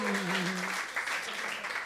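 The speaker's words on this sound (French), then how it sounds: "Je vous demanderai un tonnerre d'applaudissements pour Ivan Madonia" Audience applause at a Swiss televised comedy talent contest, a dense wash of clapping with a voice talking over the first part, continuing steadily to the end.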